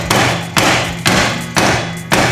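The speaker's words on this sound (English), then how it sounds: "I'll get this crown nut, put it back on there, and just hammer" A hammer strikes a crown nut on Holden Commodore suspension in five loud, evenly spaced metallic blows, each ringing briefly before the next, close up with no talking.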